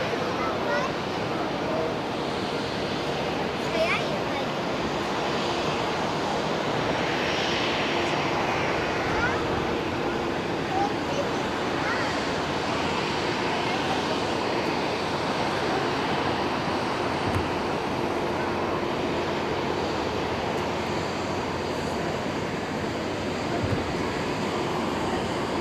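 An ANA airliner on flight 87 from Haneda to Miyako taxis at Haneda airport, a steady broad jet roar heard from a distance amid wind, with a person talking over it.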